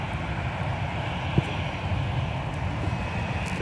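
A jet airliner taking off from runway 17 at Minneapolis–Saint Paul airport, its engines a steady, distant low roar with a faint wind-like hiss, one brief click partway through.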